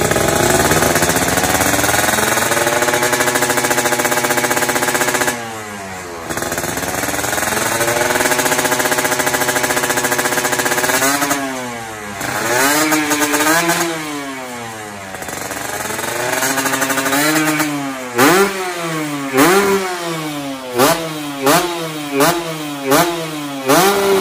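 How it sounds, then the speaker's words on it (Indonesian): A Kawasaki Ninja RR two-stroke motorcycle with a loud aftermarket exhaust idles steadily, then revs up in repeated throttle blips that build into short, sharp bursts, close and loud. "Dan ini knalpot emang adem banget sih kalau lagi idle kayak gini"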